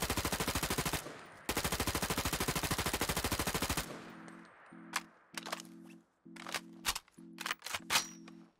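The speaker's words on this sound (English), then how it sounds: "we do get a drum magazine reload animation, so we'll go ahead and switch that over so you can check that out as well" An XM8 rifle with a drum magazine in modded Fallout 4 fires a rapid automatic burst, then mechanical reload clicks and clacks follow in an irregular sequence over a humming tone.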